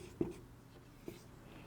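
A pen writes a journal entry by hand, giving soft, close scratching strokes with two light taps against quiet room tone.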